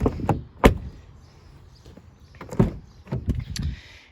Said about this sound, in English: oh, didn't close the door hard enough.